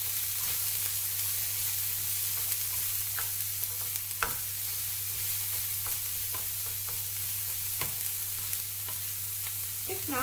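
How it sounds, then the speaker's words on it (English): Lamb casserole browning in a pan, stirred now and then: a steady soft sizzle and frying hiss runs throughout, with faint scrapes and light clinks of the spoon against the pan. "So give it a bit of a stir."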